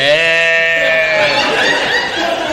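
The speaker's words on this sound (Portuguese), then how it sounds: "E a ovelha vem." A sheep's long, wavering bleat fills the clip, loud and close, breaking up toward a rougher, noisier tail.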